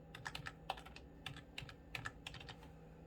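Fingers type on a computer keyboard while a trading amount is entered, making a steady, close patter of light plastic key clicks with small pauses between bursts and no talking.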